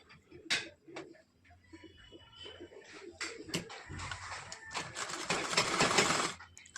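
A sewing machine stitches fabric for a katori blouse in short, uneven bursts of whirring and clicking, with small handling knocks between runs and a longer, louder stretch of stitching near the end.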